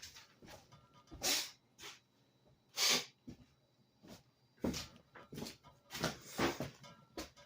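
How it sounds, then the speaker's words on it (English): Several sharp, breathy bursts of nose-blowing come close to the mic, with short honking blasts separated by quieter sniffs and pauses. "I gotta blow my nose"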